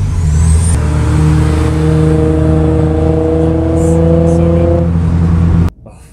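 A white Toyota Supra in Japan revs hard as it passes by, a loud rising engine note with climbing harmonics holding for several seconds before cutting off abruptly.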